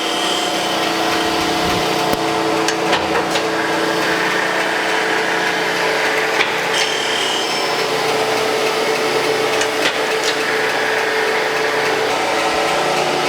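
A Landis 3S surface grinder grinds a table flat, making a loud, continuous abrasive whine and rumble with a few sharp ticks scattered across the pass.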